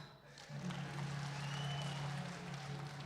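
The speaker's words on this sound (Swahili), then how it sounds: "Pigieni elders makofi tena." A church congregation at a Kikuyu Sunday service applauds its elders, a steady burst of clapping from many hands that swells after a moment and holds, with no talk over it.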